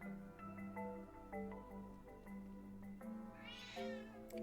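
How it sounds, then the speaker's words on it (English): A cat meows close by, a couple of short mews and then a longer, drawn-out call, clear and alone over a soft musical background. "Kitty kitty!"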